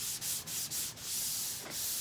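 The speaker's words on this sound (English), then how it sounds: "it's really much faster to just go down the panel, which is a new way of sanding" Hand sanding of a car body panel with a 12-inch JTCAN triangle sanding block, a steady close abrasive rasp in long even strokes broken by a few short pauses, with no talking.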